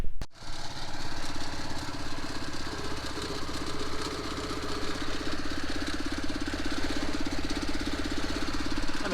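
A homemade quad truck ATV engine runs continuously at a steady idle, a loud close rumbling chug with a rapid knocking pulse throughout.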